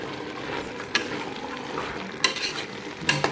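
Wet stirring of a yogurt and lemon juice mixture for hotel-style vegetable pulao, with a steady soft scraping swirl and a few sharper spoon clicks against the vessel, close and alone.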